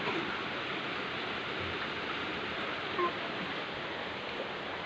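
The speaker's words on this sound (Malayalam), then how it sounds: "ഇന്ന് നല്ല മഴയാണ് കേട്ടോ മഴ മഴ ദിവസമാണ്" Steady heavy rain hisses evenly throughout, a dense wash of noise with no breaks and no voices.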